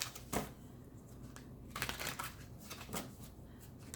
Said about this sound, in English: I'm going to shuffle it and then cut the deck.